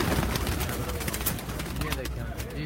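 Fancy paired pigeons coo softly at a breeder's loft, low murmuring calls repeating over a steady broadband background hiss, fairly close, with no talk.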